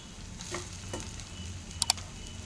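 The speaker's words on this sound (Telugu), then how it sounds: "వేసుకొని మంచిగా ఫ్రై చేసేసుకోవాలి దీన్ని" Ground meal maker soya chunks fry in a pan, giving a steady, soft sizzle with a couple of sharp scraping clicks near the end from stirring, and no talking.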